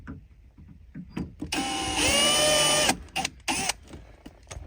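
A loud power drill whirs steadily for about a second and a half while drilling during a car audio install in a 2003 Chevrolet Avalanche, then gives two shorter bursts, with clicks and handling noise around it.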